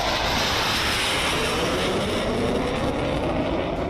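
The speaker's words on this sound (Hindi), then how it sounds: "साढ़े 3 किलोमीटर लंबी हवाई पट्टी, राफेल, मिराज, जगुआर विमानों की टच एंड गो की प्रैक्टिस।" Rafale, Mirage and Jaguar fighter jets fly touch-and-go passes over a long expressway airstrip, a loud, steady broadband jet roar that fills the whole stretch without letting up, with no voices.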